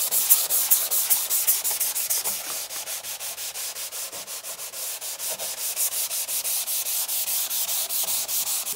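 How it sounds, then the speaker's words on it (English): Steady rhythmic rasping of sandpaper scrubbing back and forth across marine plywood, close and continuous, each stroke a soft hissing scrape. "we are sanding our marine plywood"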